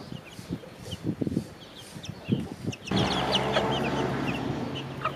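Silkie hen clucking steadily among her young chicks, with close cackles and soft fowl calls over a denser stretch of peeping chicks and rustle, no talk.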